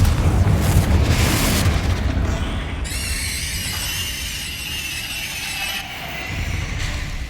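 Confringo blasting spells go off inside a tomb in Hogwarts Legacy. Heavy booming bursts come first, then shimmering, whooshing magical effects ring out, with another boom near the end.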